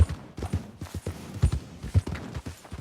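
Horse hooves clip-clop in Red Dead Redemption 2, a steady, uneven rhythm of moderately loud, close hoofbeats with no voices over them.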